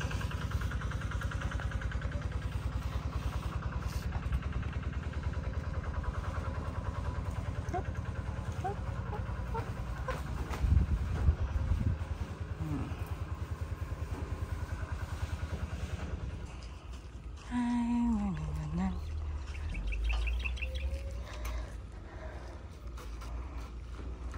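An RD motorcycle engine rumbles steadily at a low idle close by, with faint voices in the background and a few louder knocks and revs toward the end.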